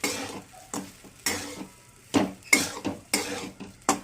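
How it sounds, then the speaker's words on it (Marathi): A spoon scrapes and clanks rhythmically against a pan while sabudana khichdi with sugar is stirred, roughly eight distinct strokes at a steady pace, close and alone without talk. "सर्व मिक्स करून घ्यायचं. 2 मिनिट चांगलं हलवून घ्यायचं म्हणजे साखर लागते खिचडीला"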